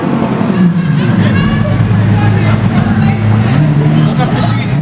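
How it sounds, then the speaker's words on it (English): A red Lamborghini Aventador SV with a race exhaust revs nearby. Its loud engine rises and falls in pitch against crowd chatter, and people talk over it. "We got some revs."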